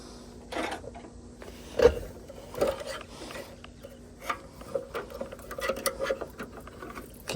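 A small screwdriver works a belt off a snowblower engine pulley, making faint, irregular scraping clicks and light rubbery taps close by, scattered unevenly through the moment.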